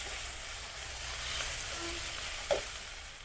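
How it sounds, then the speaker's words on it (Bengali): Chicken biryani masala sautéing in a pan with bay leaves added, cooked village-style, a steady close sizzle and hiss with a faint stir around the middle, no speech. "এবার ভালো মতো করে কষিয়ে নেব কয়েকটা তেজপাতা দিলাম"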